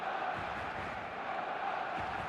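Stadium crowd in an eFootball match fills the air with a steady, distant roar of massed voices, faint and continuous without distinct peaks.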